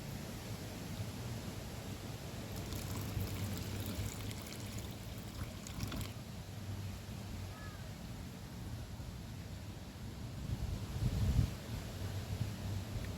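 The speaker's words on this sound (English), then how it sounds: "use that water and water it in" Steady water pouring and trickling onto soil around a plant, a continuous gentle splashing wash that swells slightly near the end.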